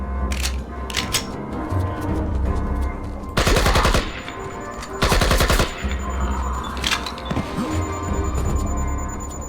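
Automatic gunfire bursts from a first-person shooter game, IGI, rattling in dense rapid volleys that swell and fade over a steady background din, with two loud, sustained bursts standing out.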